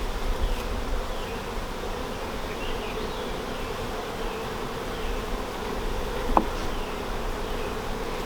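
Honey bees buzz steadily around an open new hive during an inspection, a dense continuous hum close by with one brief sharper tap partway through.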